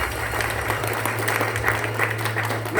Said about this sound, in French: Applaudissez le pays, applaudissez fort.